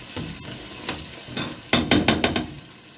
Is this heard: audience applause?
no